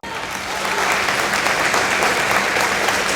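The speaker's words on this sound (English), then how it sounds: "Everyone, please stand and join me in giving our veterans an outstanding round of applause" Dense, loud applause from a standing school assembly honouring veterans at a high school Veterans Day event, rising quickly and holding steady as a full crowd clapping.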